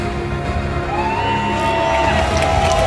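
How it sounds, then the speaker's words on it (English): Fans cheering and shouting in a packed crowd at a game tournament grand final, a loud continuous wall of mixed voices and whoops that swells throughout the moment. "Got them cheering over each other just to get everybody cheering"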